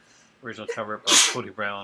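A single sharp sneeze bursts out in the middle of ongoing speech, loud and close, with talking on both sides of it.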